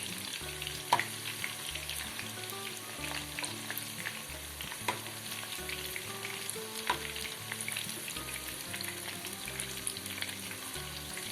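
Chicken 65 pieces fry in oil over a medium flame with a constant close sizzle and scattered small pops, while soft music plays in the background.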